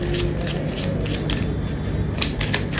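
Tarot cards shuffled by hand in quick, loud, steady riffling bursts, close and continuous with no talking.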